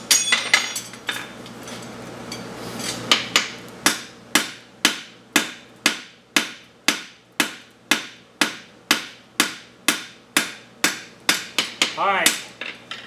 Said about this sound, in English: You want to do more hammering from that edge,